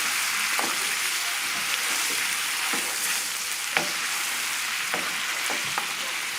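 Stuffed mushrooms and snails simmer and sizzle in reducing wine in a pan, a steady frying hiss broken by soft scraping knocks as the mixture is stirred.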